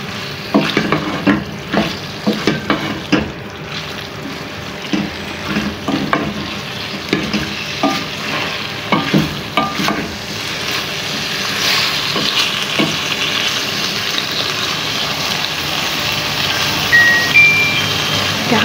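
Keema and capsicum curry sizzles in oil over a low flame while a spoon repeatedly scrapes and stirs the pan, a steady close frying hiss under irregular stirring clatter.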